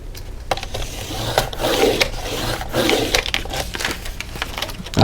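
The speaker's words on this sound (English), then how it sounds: "Let's cut that off first. I'm gonna use my regular trimmer." A regular paper trimmer cuts through notebook pages up close, making rough scraping and crunching rubs with a few sharp clicks, moderately loud and continuous for several seconds without talk.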